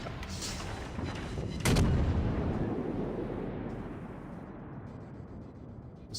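Warship rear guns fire in World of Warships, with one loud booming salvo that rolls away into a long fading rumble, following a softer earlier report and with no talking.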